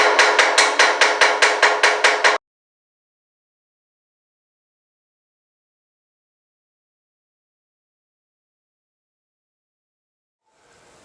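Rivets being hammered into a transmission reverse drum: about ten sharp, evenly spaced metallic blows in quick succession, loud and close, followed by a long silence.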